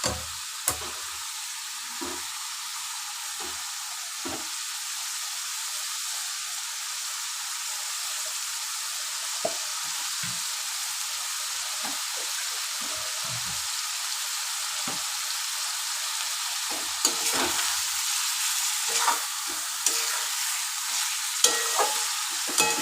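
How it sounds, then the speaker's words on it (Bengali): Chicken for a Bengali chicken curry is sautéed and stirred in a pan, a steady, moderate sizzle running throughout with frequent short scraping knocks of the spoon against the pan, close by and without talking. "খুব ভালো করে কষুক।"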